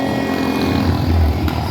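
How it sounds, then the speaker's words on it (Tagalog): A motorcycle passes on a street on New Year's Eve, its loud, close engine droning steadily and swelling slightly as it goes by, with no talking. "Ito na naman yung motorsiklo."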